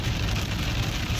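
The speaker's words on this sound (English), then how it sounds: "the rain is falling really hard" Heavy rain pours down in a dense, even roar of drops hitting a surface, loud and continuous over the short stretch.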